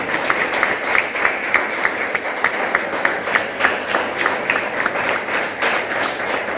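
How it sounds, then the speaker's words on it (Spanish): A church congregation applauds through a worship service, a steady mid-distance wash of clapping with a loose rhythmic pulse, fairly loud and without speech over it. "Den un fuerte aplauso al Señor."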